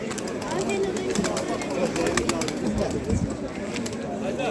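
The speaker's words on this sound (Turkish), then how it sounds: "Evet arkadaşlar yine burada güzel mardinler var." Mardin pigeons coo amid the crowd noise of an Istanbul bird market, with soft repeated calls under steady chatter and people talking nearby.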